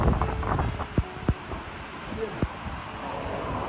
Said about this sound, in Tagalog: Malakas lakas ng hangin.